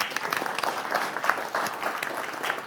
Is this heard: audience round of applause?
yes